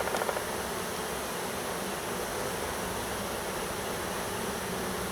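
A huge honey bee swarm gives off a dense, steady buzz that fills the air outdoors during a bucket capture. The sound is constant and even throughout, with no voices.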